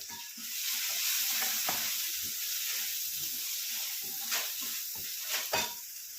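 Potatoes sautéing in a pan with turmeric, red chili powder and garam masala give off a steady, close sizzle and hiss throughout, with a couple of brief scraping stirs near the end.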